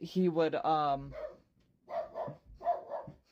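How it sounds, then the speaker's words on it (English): Household dogs bark a few times in the background, mixed in with someone talking close by. "you can probably hear my dogs in the background."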